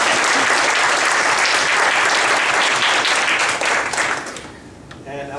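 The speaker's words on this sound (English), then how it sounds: "Round of applause for Nick" Sustained audience applause at a Toastmasters panel event in Toronto, loud and dense clapping that fills the room for about four seconds, then tapers off sharply near the end.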